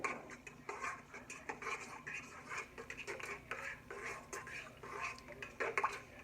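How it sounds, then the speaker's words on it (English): A spoon stirs a yeast mixture for rolls in a bowl, giving a steady run of soft scraping and light clinks against the sides, close and fairly quiet, with no talking. "I'm going to give it a good stir."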